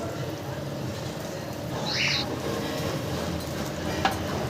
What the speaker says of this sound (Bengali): মাছের ঝোলটা ফুটে উঠেছে আমি ভেজে রাখা মাছগুলো এর মধ্যে দিয়ে দিয়েছি